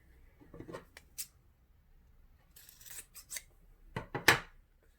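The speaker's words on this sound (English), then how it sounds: "I'm going to snip the excess fabric away from the seam allowance here at point E." Scissors snipping excess fabric from a seam allowance on a memory bear sewing pattern, a few quiet, close crisp cuts scattered over a few seconds.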